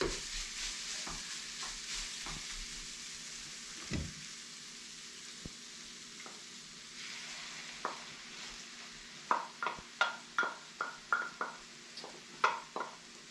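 Onions and carrots fry in a pot, giving a steady low sizzle while a utensil stirs and taps against the pan, with a run of sharp, rhythmic clinks toward the end.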